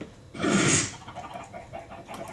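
A single short squawking cluck from a chicken in Minecraft, loud and close, followed by quieter scattered clucks and rustling.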